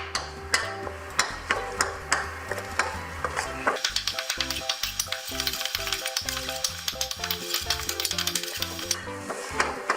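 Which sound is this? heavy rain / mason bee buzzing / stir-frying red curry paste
stir-frying red curry paste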